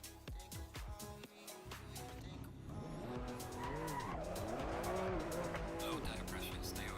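A race car in a driving game revs hard and skids through curves, its engine note rising and falling with sustained tire squeal, loud and continuous, with a voice talking over it.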